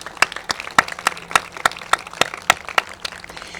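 Sparse applause at an awards reception: a handful of sharp, distinct claps in a quick, fairly regular rhythm, close and crisp rather than a dense crowd roar.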